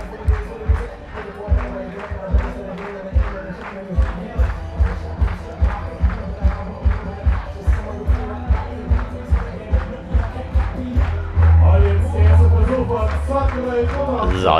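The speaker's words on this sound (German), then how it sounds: "So, das Publikum mal wieder Stimmung." A crowd at a ski jumping competition (Festungsspringen) claps in a steady rhythmic beat, loud and sustained, with a commentator's voice talking over it.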